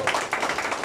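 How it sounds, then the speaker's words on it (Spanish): Audience clapping at a birthday party with a youth mariachi band, a quick burst of close, steady applause. "Fuerte el aplauso que se escuche"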